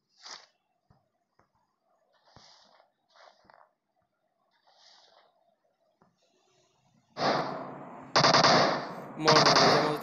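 PUBG Mobile gameplay on the snowy Vikendi map: quiet stretches with faint breathy noises and small clicks, then three loud bursts of rapid automatic gunfire close together near the end.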